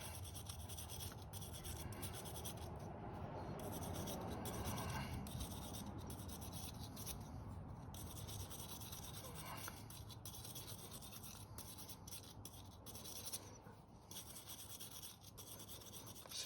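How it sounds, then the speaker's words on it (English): A stainless steel wire brush scrubs corrosion off a steel bolt during rear wheel work on a Honda SH150i scooter, giving a steady close rasping that runs unbroken with no talk. "I'm just gonna brush that corrosion off."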